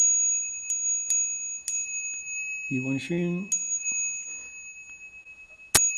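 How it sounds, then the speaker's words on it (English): A meditation bell is struck for bowing, giving clear metallic rings with long decays, about five strikes spaced irregularly, one louder near the end. A voice chants briefly between the strikes. "So let's ring the bell 3 times."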